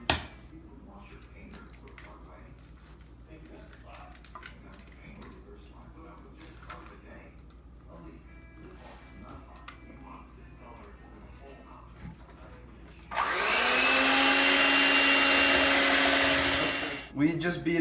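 An electric mixer beats four eggs one at a time into a milk mixture for pan de muerto dough. Talk comes first, then a loud, steady motor whir runs alone for about four seconds before cutting off.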